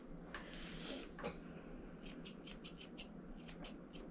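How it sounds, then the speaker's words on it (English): Scissors snip through a small nervous dog's hair during a grooming, first in a few scattered cuts, then in a quick run of crisp, repeated snips close by. "We can probably just scissor this into a nice shape"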